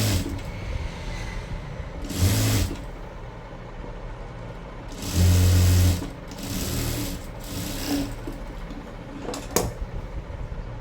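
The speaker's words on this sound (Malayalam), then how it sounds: "ശേഷം നമ്മൾ കൈയുടെ അടി മടക്കി അടിക്കുകയാണ്." Sewing machine stitching the folded hem of a sleeve on an A-line top, heard as several short whirring bursts of rapid stitching separated by quieter pauses, with no talking.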